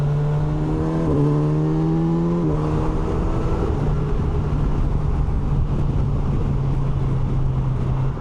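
A 2025 Kawasaki Versys 1100 SE's inline-four engine hums smoothly while cruising on a freeway, with steady tones shifting slightly as gears change, under heavy wind rush.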